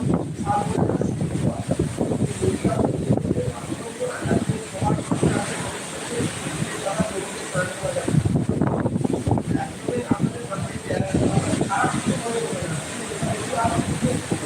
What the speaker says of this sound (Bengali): সৈকত সুন্দরী দীঘার অবস্থাটা দেখুন প্রচণ্ড ঝোড়ো বাতাস খুলে দিয়েছে এবং বৃষ্টি